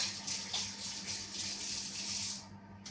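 Hands being washed under a running kitchen tap while preparing stuffed tomatoes with eggs, a steady close rush of water that cuts off near the end.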